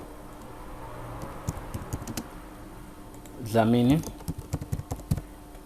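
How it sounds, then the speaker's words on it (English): Keys clack on a computer keyboard while a parent's name is typed into CRM software, a run of light, quick taps spread through the clip around a brief stretch of speech. "you type in the parent name"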